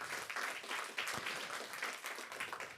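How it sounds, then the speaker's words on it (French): Audience applause after a science talk, a dense steady wash of clapping from a crowd, faint and continuous throughout. "Voici, et j'imagine sous vos applaudissements, Jacques Girac"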